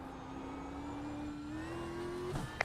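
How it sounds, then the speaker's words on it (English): Ford Mustang Gen3 Supercar engine in a racing game on the Winton track, a steady rising drone as the car accelerates through the gears, heard at moderate level without talk, ending in a brief shift or knock. "The Mustang does sound good on track."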